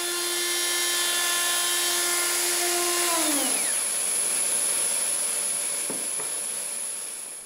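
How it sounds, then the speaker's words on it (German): A wood router fitted with a roundover bit shapes the edges of a guitar amplifier cabinet, a loud high-pitched whine that winds down in pitch and fades, followed by a couple of faint knocks. "die Kanten des Gehäuses abzurunden. Das macht er mit einer Oberfräse, in die ein Abrundfräser montiert ist."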